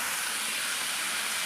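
Water poured into a hot pan of low-oil brinjal and tilapia fish curry gives a steady, loud hiss of steam that holds for about a second and a half, with no talking.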